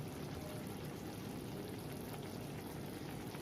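Kewra water pours into a Mughlai chicken chaap marinade, a faint, steady trickling stream that runs evenly throughout with no other sounds.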